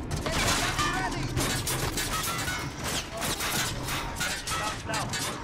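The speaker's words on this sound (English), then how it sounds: "I'll hit him with a cruise missile." Bursts of explosions and gunfire crackle loudly and continuously in a Call of Duty: Modern Warfare multiplayer match, with several sharp blasts layered over one another as a cruise missile strike lands.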